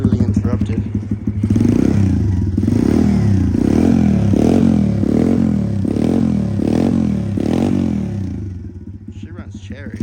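A dirt bike engine revs repeatedly, about eight rhythmic throttle blips rising and falling over a loud, close, steady idle, then settles back to a rumbling idle.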